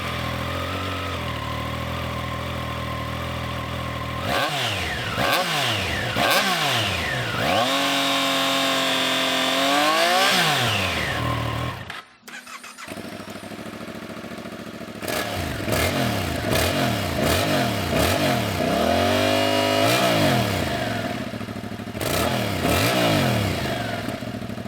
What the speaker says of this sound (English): the 270-degree crank in the MT-07 really gives it that V-twinny growl, whereas the Trident has that distinctive raspy triple note